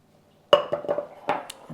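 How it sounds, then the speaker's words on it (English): A utensil stirs a cookie mixture in a bowl with a few light clinks and scrapes, close and quiet, coming in short taps after a moment of silence. "Just give that a stir."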